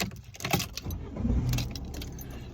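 A car key bunch with a house key and a store loyalty card jingles and clinks close up, a few bright metallic rattles over a low car-interior rumble, with no talking.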